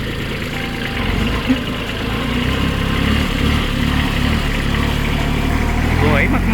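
Kubota B2140S tractor, a 2023 model with about 360 working hours, running steadily at idle with a continuous low engine rumble, fairly close, while a person talks over it.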